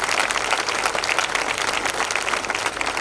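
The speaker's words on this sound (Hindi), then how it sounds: "एक बार तालियां बजा दीजिएगा।" A large crowd claps at a Hindi poetry gathering (kavi sammelan) in Bangalore, producing dense, continuous applause that stays loud and even throughout, with no speech over it.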